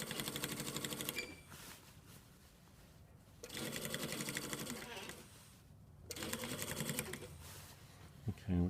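A home sewing machine stitching a shirt collar onto the neckline, in three steady bursts of rapid mechanical whirring separated by quiet pauses, close by, with faint handling noise between runs.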